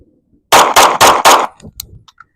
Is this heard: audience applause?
no